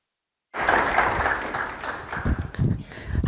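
Audience applause greeting a guest presenter at a university symposium on religious inclusion, steady dense clapping that starts abruptly and fills the room, swelling slightly toward the end.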